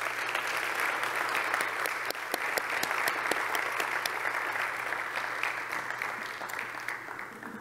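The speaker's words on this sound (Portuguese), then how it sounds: "eu peço um aplauso a todos." Sustained applause from an audience at a church event, a steady wash of many hands clapping that holds evenly for several seconds, heard alone without talk.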